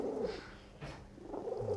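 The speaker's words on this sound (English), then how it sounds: "She's still purring throughout the whole thing." A female cat at a veterinary clinic purring quietly and close, a low continuous rumbling hum in two gentle phases, faint and alone without talk.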